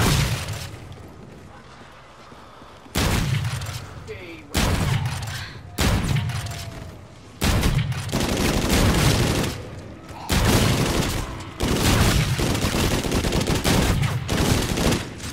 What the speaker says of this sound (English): Automatic shotgun with infinite ammo. You just hold down fire.